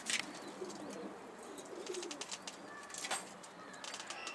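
Pigeons coo and chirp in a loft, soft low calls mixed with sharper tweets and brief rustling, moderately close and fairly quiet, with no speech.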